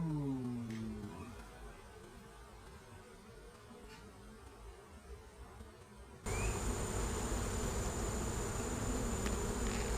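Honeybees buzzing around an open single brood box during an inspection, a close steady hum that grows noticeably louder partway through.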